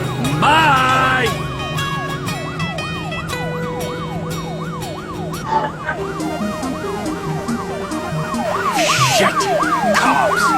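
A police car siren wails loudly and close, cycling in rapid rising and falling sweeps over engine and street noise, with a brief horn-like blast near the start.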